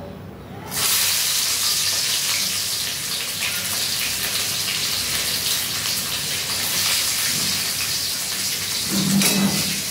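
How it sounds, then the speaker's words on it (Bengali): Garlic cloves dropped into hot oil after frying potatoes, a loud, steady sizzling hiss that starts abruptly and holds evenly throughout, close up. "এরপরে আমি দিয়ে দেব এই রসুনগুলো।"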